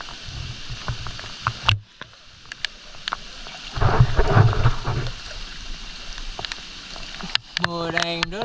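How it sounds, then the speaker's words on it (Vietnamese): Heavy outdoor rain pours down steadily with low rumbles of thunder swelling midway, while voices talk nearby and a brief tonal chime rises at the end. "Mưa đang rất là to."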